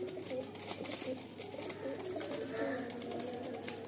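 A single male Kasma pigeon coos close by in repeated low, rolling phrases, with more cooing birds faintly in the background and a steady hum of ambient noise.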